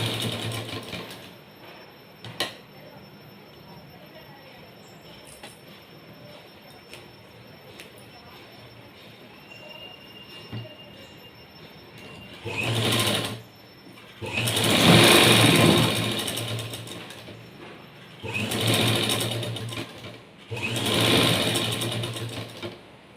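A sewing machine stitches a blouse seam in several loud, close bursts of fast whirring after a quieter stretch of handling noise, with pauses between runs.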